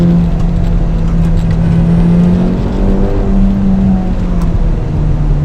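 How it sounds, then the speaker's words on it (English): A 2025 Acura Integra Type S engine droning loud and steady from inside the cabin through a downshift, with a sustained hum that swells slightly and holds without talk. "Probably don't need this downshift, but I'm just curious."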